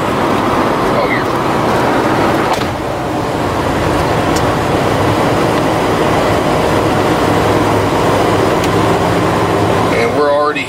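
A 1996 Coach House 192TB Class B motorhome with a 360 V8 climbs a steep hill at about 50 mph, heard from inside as a continuous broadband road rumble and engine drone with occasional faint rattles.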